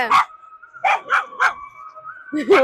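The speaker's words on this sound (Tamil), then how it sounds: "இங்க நாய் வேற குறைக்குது" Dog barking in a village near Kanyakumari, several loud, close barks in an uneven sequence with a long whine or howl running between them.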